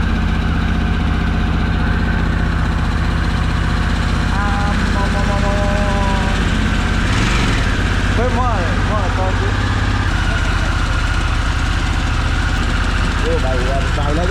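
Harley-Davidson touring superbike engine idling loud and steady, a deep continuous rumble with a brief rise in revs midway, while people talk over it.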